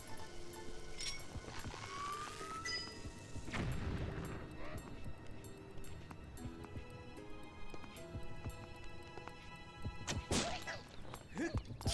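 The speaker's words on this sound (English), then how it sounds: "we can just toss a bomb over the top" A bomb goes off in The Legend of Zelda: Skyward Sword HD, a heavy booming burst over game music and effects, followed later by another sharp crash.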